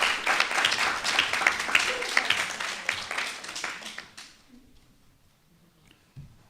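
An audience at a student debate event claps for a team, a moderate burst of applause lasting about four seconds before stopping abruptly.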